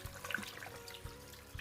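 Water pours from a tap into a cooking pot with chopped onion for Nigerian oha soup, a soft running splash with a few faint clinks, heard close and fairly quiet.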